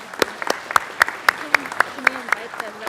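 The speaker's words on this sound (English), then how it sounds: "let's give them a round of applause" Swimmers are honoured at a San Marcos city council meeting with a short burst of clapping from a small group, with sharp separate claps landing in a quick irregular rhythm.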